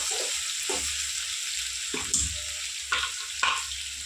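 Raw plantain slices fry in a pan with a steady, bright sizzle, broken by a few stirring scrapes and knocks, heard up close with no voices.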